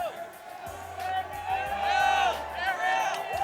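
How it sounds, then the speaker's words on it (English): A press conference crowd for a UFC fight in New York cheers and whoops steadily in a large hall, a loud continuous roar of voices with rising shouts, while someone talks over it. "listen to this crowd"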